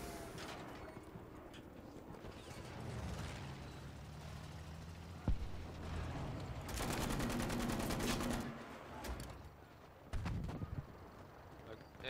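Anti-aircraft gunfire in Battlefield V rattles in bursts over dense in-game battle noise, with a sharp crack midway and a heavier volley of rapid shots later, constant and fairly loud throughout.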